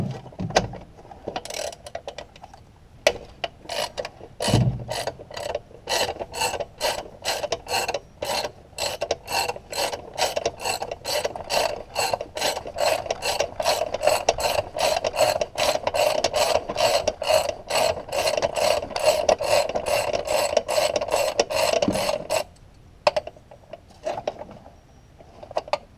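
A hand ratchet clicks steadily in a long, rapid run of sharp, close pawl ticks while working a valve cover bolt on a Ford engine, with brief pauses between strokes and no talking.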